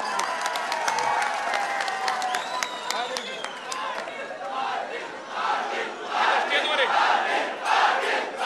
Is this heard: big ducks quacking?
no